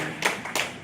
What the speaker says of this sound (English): Let's give a big round of applause to the nurses of Abua.